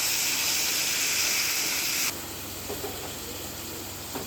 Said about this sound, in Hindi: प्याज के साथ गोश्त को तलेंगे।